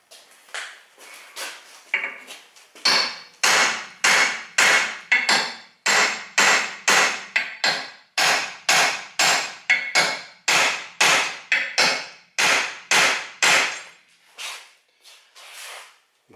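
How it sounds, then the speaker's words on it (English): Hammering on a rusted brake rotor of a Mazda 3 2.3, about two dozen sharp metallic blows in a fairly steady rhythm, close and loud, with a few lighter taps at the start. "Hoping to impact it and maybe break up the rust, and hopefully it'll come out. I don't like hammering on the rotors directly."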